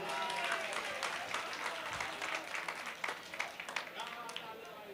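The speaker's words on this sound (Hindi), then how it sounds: "जोरदार ताली बजाइए" Audience applause at an All India mushaira poetry gathering in Kamthee near Nagpur, dense clapping from a large crowd that thins into scattered claps toward the end, with voices mixed in.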